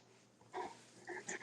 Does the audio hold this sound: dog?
yes